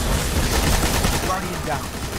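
Constant dense gunfire in the video game Destiny: Rise of Iron during a strike against Omnigal, a loud, unbroken wash of rapid shots and effects with no pause.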